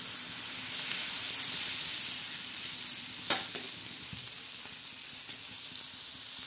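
Green chilies with salt fry in a pan, a steady, close sizzle and hiss with a few scattered pops and stirring clicks.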